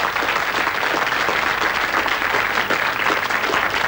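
An audience gives sustained, loud, even applause for a school student, a dense wash of clapping with no pauses.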